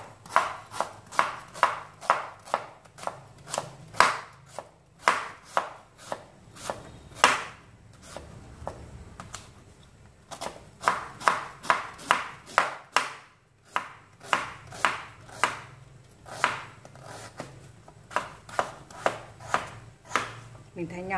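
A knife chops sweet potato into small pieces on a cutting board for black bean sweet potato porridge, sounding as rapid, close, steady thuds in several bursts separated by short pauses.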